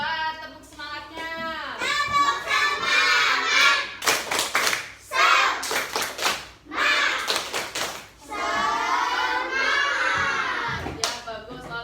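Children in a classroom clap a rhythmic patterned cheer together, bursts of hand claps and taps alternating with chanting voices, fairly close and lively throughout.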